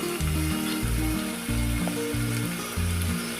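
Onions and curry leaves frying in hot oil for a Gujarati black-eyed pea curry give a steady, close sizzle throughout, with low rhythmic stirring or pan noises underneath and no talking.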